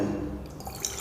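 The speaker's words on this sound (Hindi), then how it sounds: "सबसे पहले हम एक बीकर में जो सामने रखा हुआ है इसमें हम वाटर ले लेते हैं" Water trickles and drips into a glass beaker, a short, soft liquid splash fading into quieter drips.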